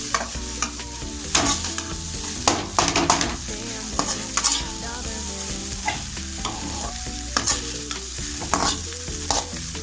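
Chicken fried rice is stir-fried on high flame, loud continuous sizzling broken by repeated scraping and tossing strokes of a spatula against the pan in an irregular rhythm.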